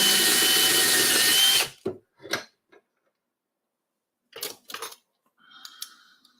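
A power drill whirs loudly for under two seconds while processing fired .308 rifle brass for reloading, then stops; afterward come scattered clicks and light mechanical clatter in near silence.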